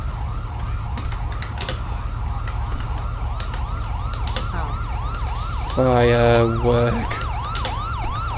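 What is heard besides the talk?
ambulance siren in a video game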